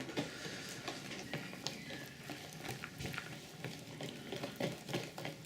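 Hash brownie batter being mixed by hand in a bowl, soft irregular stirring and scraping strokes, faint and close with low room noise, no talking.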